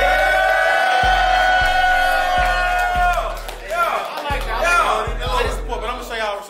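Crowd cheering erupts at an all-girls boxing event in Charlotte, North Carolina, with whoops and shouts building over heavy bass-thumping music after a brief stretch of loud sound.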